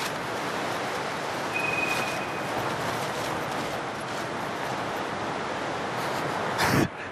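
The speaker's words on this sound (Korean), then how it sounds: "바람 소리가 왜 이래?" Strong wind roars steadily and loudly around a tent at night in Argentina, buffeting the fabric with gusts and flapping rustles, with a sharp burst near the end.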